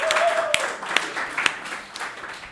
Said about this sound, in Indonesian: Kita beri tepuk tangan untuk kelompok A.